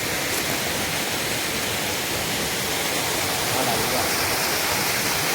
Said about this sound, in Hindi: देखो पानी केमती पड़ुची